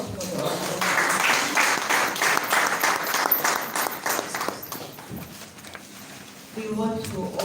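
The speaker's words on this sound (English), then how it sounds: "Please another round of applause for the organizers." An audience claps for the organizers at an International Day of Rural Women event in Abuja, a loud, dense burst of applause that gradually thins and fades, with a voice speaking near the end.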